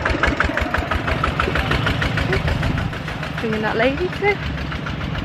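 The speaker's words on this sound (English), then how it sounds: "Ooh, and there's a tractor thing coming." A tractor's engine rumbles and knocks close by, running steadily throughout at moderate loudness, with people talking over it.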